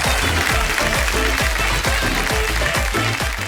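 A studio audience on Kaun Banega Crorepati Season 14 claps loudly and steadily, a dense wash of applause holding for several seconds over a rhythmic music bed.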